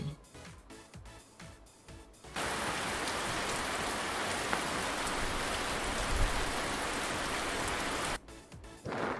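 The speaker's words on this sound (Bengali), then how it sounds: "ছাতা মাথায় বৃষ্টি পড়ে" Steady rain falling, a dense even hiss that starts abruptly and stops just as suddenly, set between stretches of a children's song.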